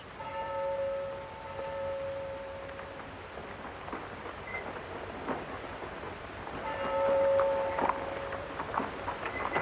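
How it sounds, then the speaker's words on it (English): A bell tolls in the background of a scene from the film The Seventh Seal, its ringing tones sounding at a steady, unhurried pace over a low, rumbling ambient bed, fading midway and then returning. "we hear the sound of a bell tolling in the background."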